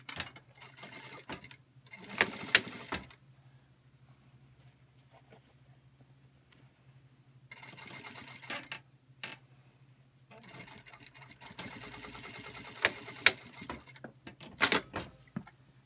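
A Singer industrial sewing machine chain-stitches pieces in production style, running in several fast whirring bursts separated by quiet pauses, close and steady.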